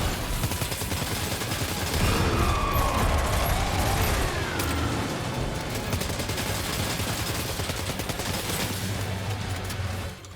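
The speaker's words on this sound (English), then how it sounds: "Opening fire now." Video game gunfire rattles in dense, rapid volleys for the whole stretch, a loud continuous clatter of shots with mechanical clicks mixed in.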